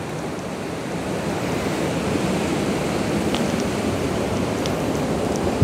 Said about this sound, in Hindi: वो समंदर भी वैसे ही तेज़ी के साथ आगे की तरफ बढ़ रहा है